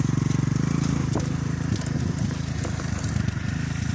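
A motorcycle engine putters close by with a rapid, uneven throb, joined by faint clicks and road rumble.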